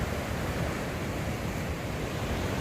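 Rough sea waves at Jukbyeon port roar in a continuous broadband wash, with wind buffeting the microphone and no clear breaks between swells.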